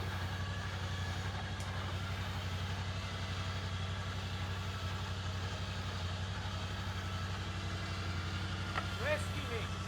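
An OpenRoad 4500 lb ATV/UTV winch with synthetic rope pulls under load, giving a steady close mechanical hum with a fast pulsing texture that continues evenly throughout.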